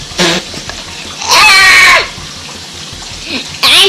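Water splashes from a slime dunk hat game in two loud bursts, a long one near the middle and another at the end, with short clatter at the start and excited voices in the background.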